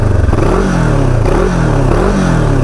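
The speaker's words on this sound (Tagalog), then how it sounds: "kapag bobombay natin, pakinggan nyo." QJ Motor X-Cape 649 adventure touring motorcycle, a 649cc twin, revved repeatedly at close range, the engine note sweeping up and falling back in several quick blips over a steady loud rumble.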